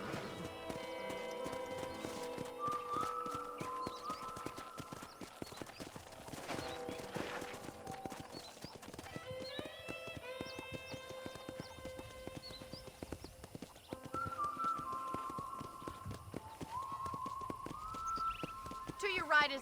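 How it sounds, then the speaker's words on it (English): A horse's hooves clip-clop steadily at a walking pace in the Red Dead Redemption video game, close and distinct, with a brief whinny, music playing beneath and a voice talking over it. "I picked out a fine horse for you."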